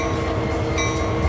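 A train rolls along in a train driving video game, a steady dense rumble with low mechanical drone and a faint higher tone, constant and loud with no talk.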